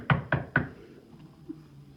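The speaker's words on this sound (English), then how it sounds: "Just then there was a knock at the door" Three quick, firm knocks on a door, evenly spaced and close by, followed by a quiet pause with a faint thud.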